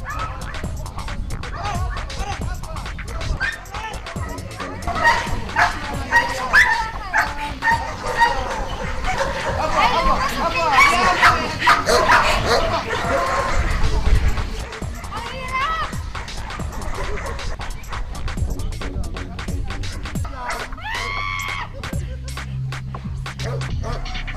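Dogs guarding armors bark and yip repeatedly, mixed with excited commentary and background activity, at moderate distance throughout.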